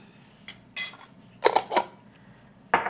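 A metal teaspoon stirs salt into liquid in a bowl, producing a few sharp clinks and scrapes against the bowl, spaced unevenly and close by, with quiet between them.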